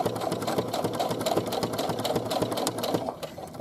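A sewing machine runs steadily while basting the upper edge of a pocket, its needle producing a fast, even mechanical chatter that eases off just before the end.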